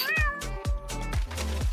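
A cartoonish cat meowing in the Roblox video game, a run of four or five quick, bright meows in steady succession, close and clear, with no talk over them.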